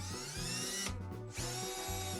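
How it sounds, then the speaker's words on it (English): A power drill bores into a car exhaust pipe during a home exhaust repair: a loud, steady whine close by that steps between speeds and eases off briefly near the middle before spinning back up. "Try and drill right in there."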